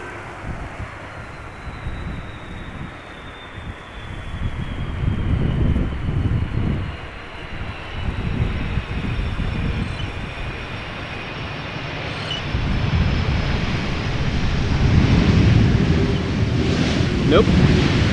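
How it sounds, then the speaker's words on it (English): A 15-year-old Finnair Airbus A330-300 lands at Amsterdam Schiphol in gusty crosswind, its engines rolling out on subdued idle reverse thrust, a steady broad roar with wind buffeting the microphone that swells slightly toward the end. "A subdued idle reverse landing"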